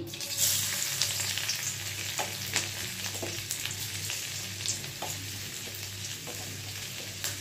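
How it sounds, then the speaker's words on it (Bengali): Chopped garlic hitting hot Sundrop oil in a pan for Bengali-style chilli chicken, a loud bright continuous sizzle that flares at the start and then holds steady, with a few faint stirring scrapes and no speech. "তেলটা গরম হয়ে গেছে, এর মধ্যে আমি দিয়ে দেব রসুন কুচি"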